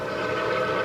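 Santa Fe 3751, a 4-8-4 steam locomotive, running as a steady, droning rumble with a sustained whistle-like tone layered over it, continuous and fairly loud.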